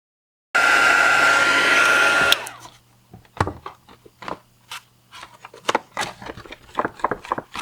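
Hair dryer drying paint in a sketchbook, a loud steady close blast of rushing air for about two seconds that then cuts off, leaving quiet handling clicks and taps.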